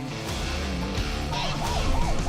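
Wailing siren of an ambulance carrying a newborn, escorted by police sidecar motorcycles through traffic toward Seoul, rising and falling steadily over engine and road noise, fairly close and continuous.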